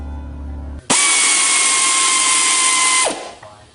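A close, loud impact tool drives a bolt while a Ski-Doo snowmobile brake caliper is being refitted, one steady sustained whir about two seconds long that winds down at the end.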